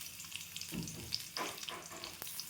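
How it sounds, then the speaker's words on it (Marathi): Ginger and onion fry in a spoonful of oil in a kadhai, a soft, quiet sizzle broken by a few scraping stirs. No voices are heard. "कढईमध्ये 1 चमच तेल टाकलं मी. आलं आणि कांदा भाजून घ्यायचं आपल्याला."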